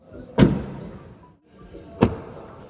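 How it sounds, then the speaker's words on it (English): Two heavy car door slams on a Changan Lumin mini electric car, one early and one about a second and a half later, each a sharp thud with a short ringing tail, fairly close. "Now it's time for a door check."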